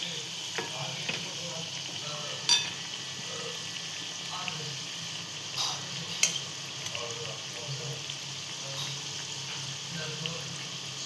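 Aloo pan pakoda (colocasia leaf fritters) fry in oil over a low gas flame with a steady, soft sizzle and a few small clinks and stirs, while a voice talks faintly in the background.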